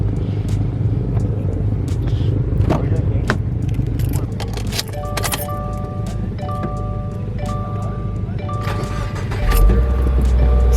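A Subaru fitted with a loud FRS exhaust and unequal-length headers rumbles steadily and close up, a deep continuous drone with some jangling and clatter on top, swelling louder toward the end.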